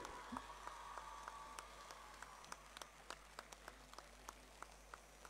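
At Richa Ghosh's felicitation ceremony at Eden Gardens, a sparse round of applause greets her on stage, heard as faint, distant, patchy clapping with a few sharper claps.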